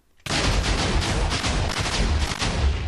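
Lucky blocks blowing up in Minecraft, a sudden loud explosion that roars on as a continuous, dense crackling blast of overlapping detonations, close and heavy throughout.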